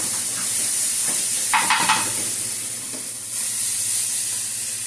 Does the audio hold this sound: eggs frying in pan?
yes